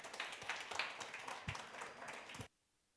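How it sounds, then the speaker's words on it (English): An audience at a conference claps and applauds panelists coming on stage, a dense patter of many hands that swells briefly and cuts off abruptly. "Please give them a round of applause."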